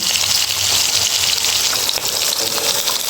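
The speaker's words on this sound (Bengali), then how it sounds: "একটু লাল লাল করে ভাজবো" Pangasius fish pieces frying in hot oil give off a steady, dense sizzle that holds at an even loudness throughout, with no voices.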